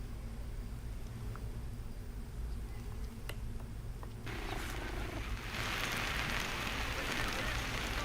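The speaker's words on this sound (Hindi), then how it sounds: "बारिश हो रही है" Rain falls steadily in Kashmir as a dense, even hiss, growing heavier and louder partway through, with no voices heard.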